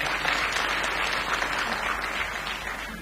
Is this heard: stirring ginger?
no